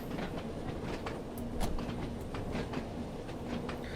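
Video game train rumbling along the Isle of Wight railway line with rhythmic wheel clicks and a steady low roar, fairly close and continuous.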